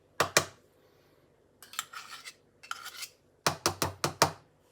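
A little spoon scrapes around a pan on a plug-in hob, giving harsh metallic scratches in short bursts: two quick strokes, a pause, a few rougher passes, then a quick run of several scrapes, close and clear with no talking.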